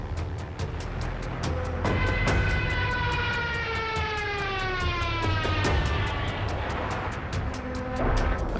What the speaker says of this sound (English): The Jericho trumpet, a propeller-driven siren tube that made the approaching aircraft with its banshee howl as menacing as some fantastical beast.